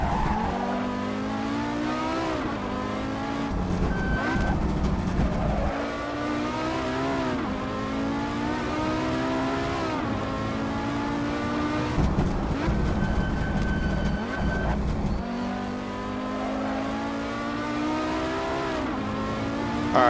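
A race car lapping in Assetto Corsa on PS4, driven with a controller: loud engine revving up and down through gear changes, with repeated tire squeals and skids, continuous and close with no talking.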